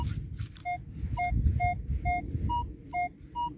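Metal detector sweeping over a buried target in the ground near an old house site, giving a clear high beep repeated about every half second, steady and close over a low rumbling background.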